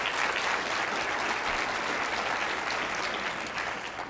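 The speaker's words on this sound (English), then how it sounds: "So let's give all of them a big round of applause." A conference audience at a diversity and inclusion executive forum gives a sustained round of applause for sponsors, dense steady clapping for about four seconds, easing slightly toward the end.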